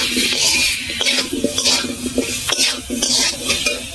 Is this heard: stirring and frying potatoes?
yes